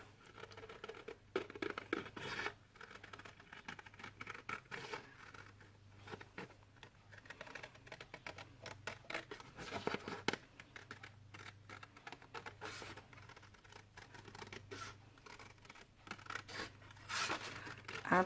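Paper being cut with scissors for a half-circle flipbook card, a quiet, close run of crisp snipping and rustling strokes that goes on steadily throughout with no talking.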